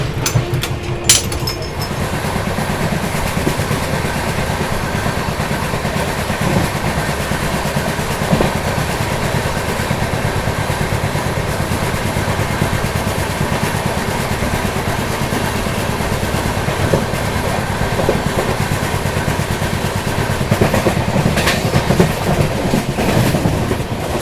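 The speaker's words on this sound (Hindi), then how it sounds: "गोरखधाम ने यहाँ पर कर दिया है पुरुषोत्तम सुपरफास्ट एक्सप्रेस को ओवरटेक फिरोज़ाबाद पे" Gorakhdham Superfast Express passenger train running on rails near Firozabad, heard from onboard as a steady loud rumble with rhythmic clickety-clack of wheels over track joints throughout.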